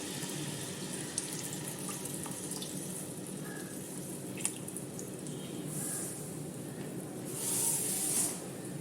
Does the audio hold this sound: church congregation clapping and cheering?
no